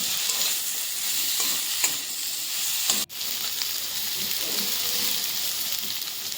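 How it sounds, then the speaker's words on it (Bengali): Fish curry masala with turmeric for rui macher jhol sautéing in a pan, a close, steady hissing sizzle with a brief cut partway through, no talk. "এরপর ঢাকা খুলে দিয়ে আবার সাঁতলে নিচ্ছি। অ্যাড করে দিলাম হলুদ গুঁড়ো"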